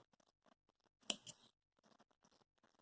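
A single quick snip of scissors cuts crochet yarn, a sharp close click standing out against near silence and faint handling noises.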